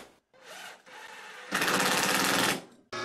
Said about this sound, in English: And then I can drive the screws.